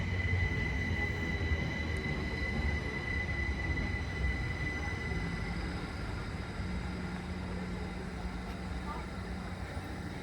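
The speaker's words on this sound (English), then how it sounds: "Southern service from London Bridge to Caterham and Tatton Corner." A Southern passenger train from London Bridge to Caterham and Tadworth rolls through South Croydon station with a steady rumbling roar of wheels on rail and a faint high squeal throughout.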